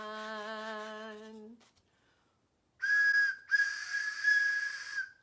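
A steady tonal whistle, then a pause, then a loud, hissing steam train whistle blowing continuously for about two seconds.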